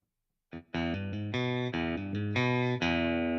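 Bright, twangy electric guitar on the bridge pickup picking a short melodic phrase of sustained single notes, clean and upfront with no voices.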